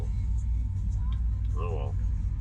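A 1976 Chevy Malibu Classic rolls along with its rear brakes dragging, giving a steady low road rumble from inside the car, with a short stretch of someone talking over it.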